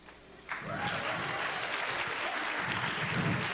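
Audience applause breaks out in a hall during a Cégeps en spectacle 2015 student stage show, starting sharply after a brief quiet moment and holding as a steady, dense, fairly loud wash of many hands clapping.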